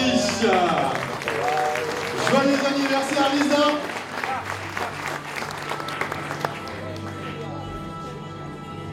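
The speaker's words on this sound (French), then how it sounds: "on va l'applaudir, bien évidemment" A birthday audience applauds Lisa, a broad wash of clapping with cheering voices and someone calling out her name. The clapping is strongest early, then gives way to looser crowd noise and chatter.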